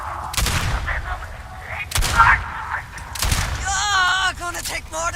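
Bursts of gunfire in the video game Starfield, several sharp loud shots spaced a second or so apart amid game effects and a brief rising electronic tone near the end.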